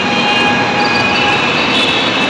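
A Kolkata metro train runs near Ruby metro station, a loud, constant close rumble of wheels on rails with thin high squealing tones riding steadily over it.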